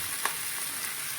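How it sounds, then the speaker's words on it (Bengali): Steady, faint sizzle and hiss from a pan of Bengali snail and potato curry as water goes in, one brief louder spit near the start, no voices. "এবার একটু জল অ্যাড করছি"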